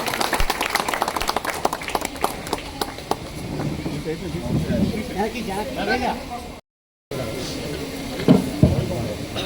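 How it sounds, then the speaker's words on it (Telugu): Audience clapping at a retirement felicitation ceremony held by a temple endowments department, a stretch of scattered, uneven claps with crowd murmur, broken by a brief dropout and followed by more distant clapping and chatter. "చప్పట్లు."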